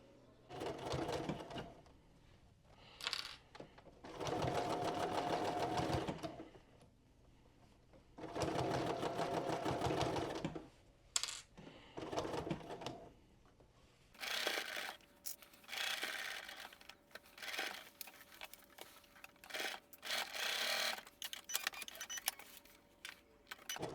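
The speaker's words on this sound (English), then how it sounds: "I'm just going to serge everything, make it nice and clean" Serger overlock sewing machine finishing garment seams: repeated bursts of rapid mechanical stitching lasting a few seconds each, separated by short pauses, then a stretch of shorter clattering runs, close and fairly quiet.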